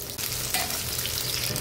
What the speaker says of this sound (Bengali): এখন সবগুলা মাছ আমি এখানে দিয়ে নিলাম, এটা ভাজা হোক